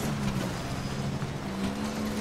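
A motorbike engine runs in the video game Death Stranding, a steady low drone holding an even pitch throughout, close and continuous with no talk.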